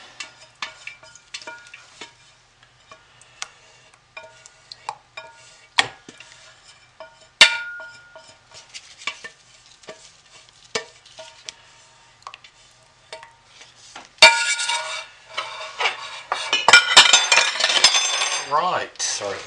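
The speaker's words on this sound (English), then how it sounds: "I will scrape this out because I don't want it to go to waste." Homemade mint dish soap mixture scraped out of a container with a utensil, giving sparse scraping ticks and knocks that turn into a louder, busier stretch of scraping and stirring toward the end.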